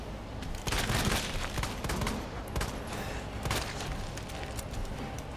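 Rapid gunfire from a handgun in the Resident Evil 2 Remake video game, a dense run of shots with booming impacts over game music and effects, loud and continuous.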